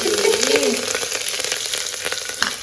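Onion dropping into hot oil with spices, dried and green chillies, cinnamon, cloves and curry leaves in a pressure cooker, giving a loud, steady sizzle and crackle throughout, with a short stirring scrape.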